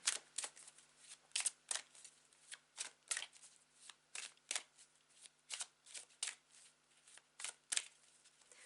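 Tarot cards are shuffled close by in quick, crisp riffles, a steady run of soft flicking bursts with no voice over them.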